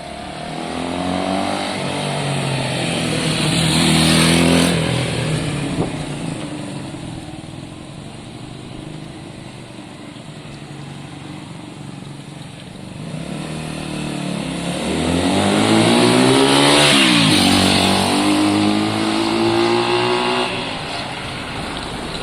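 Honda CB200 motorcycle engine on a test ride after a rear drum brake service, revving up and easing off in two swells, moderately close with road and wind noise.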